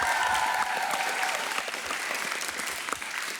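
An audience at a school quiz show applauds for the Ivana Groharja primary school team from Škofja Loka, with dense, even clapping that holds steady throughout.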